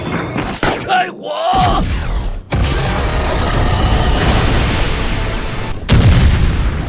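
An anime weapon fires and explodes in a series of heavy booms and bursts, followed by a sustained, rumbling roar of blast and debris that swells again near the end. Voices are faint beneath it.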